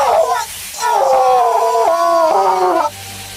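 A burned aswang creature in a Filipino horror tale lets out a loud, drawn-out, wavering scream that rises and falls in howling, moaning wails over about three seconds before cutting off.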